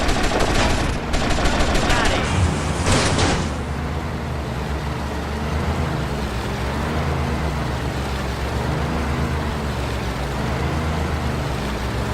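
Rapid bursts of automatic gunfire crackle in GTA Vice City Definitive Edition during a vehicle chase, several sharp volleys in the first few seconds, then giving way to a steady engine and road rumble.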